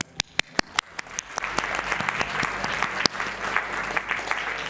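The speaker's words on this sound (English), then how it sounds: "Please join me in giving a final round of applause." Applause from the audience closing a green economy summit: a few sharp, separate claps at first, then building into steady, full clapping from the room that holds to the end.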